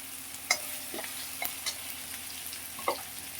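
Onions and whole green chillies sautéing in a pan, a steady low sizzle broken by a few sharp spatula clicks and scrapes as they are stirred.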